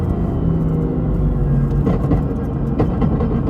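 A BMW M4 fitted with new downpipes revs up, a loud deep exhaust rumble close by with the car body vibrating, rising in spurts without speech.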